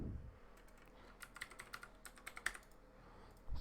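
Someone types on a computer keyboard during a live coding session, producing a quiet, irregular run of soft keystroke clicks over faint background hiss, with no speech.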